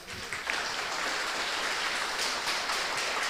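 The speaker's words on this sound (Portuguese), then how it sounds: "Vamos bater palmas para elas?" A church congregation claps together in sustained, dense applause that swells quickly and holds steady, filling the hall for a few seconds.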